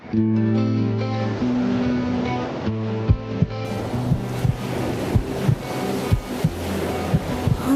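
Crashing sea waves played as a sound effect in a Kannada TV serial, heard as a continuous rolling surf wash mixed with dramatic background music and low thumping beats, with no talk.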